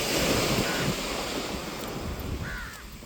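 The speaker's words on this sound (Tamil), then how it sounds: "பக்கத்துலேயே அலையில பாருங்கள்" Sea waves break steadily on the shore where fishermen work a net, a loud continuous roar of surf mixed with gusty wind buffeting the microphone and a faint bird call near the end.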